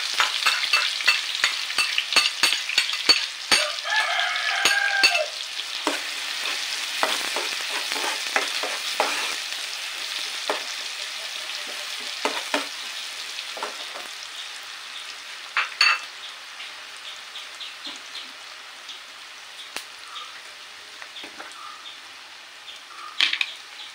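A medium onion fries in sunflower oil for restaurant-style gobi manchurian, a steady crackling sizzle with scattered stirring clicks and spoon taps, louder at first then settling lower.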